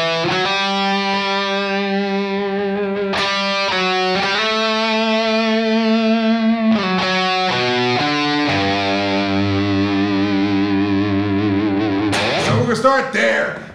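Haunting electric guitar intro, sustained effects-laden tones with distortion and reverb shifting through held notes, loud and continuous with a few sharp attacks near the end.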